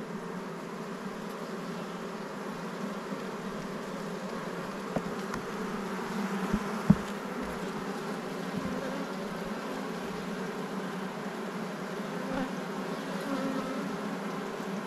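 Honey bees hum and buzz steadily around an opened backyard hive, a continuous close drone with a few brief knocks and clicks from handling frames, no speech.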